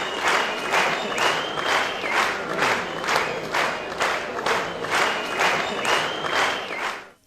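A crowd at a stage event claps loudly and steadily to welcome a young girl, the applause pulsing in even waves with some cheering mixed in, close and continuous until it fades at the end.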